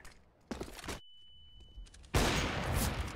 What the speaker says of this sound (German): War das dein Schuss hinter mir?